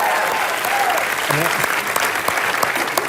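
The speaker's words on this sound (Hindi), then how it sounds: "ठोको जरा जोरदार ताली एक बार।" A studio audience at a comedy show applauds loudly and steadily, the dense clapping continuing under a voice speaking throughout.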